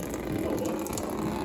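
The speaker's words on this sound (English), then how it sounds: "First thing you're gonna wanna do is go ahead and drain all the radiator dry out of your drain tube right here." Radiator coolant pouring from a drain tube into a bucket during work on a 2JZ-swapped Lexus GS300, a steady continuous gushing trickle, close and alone.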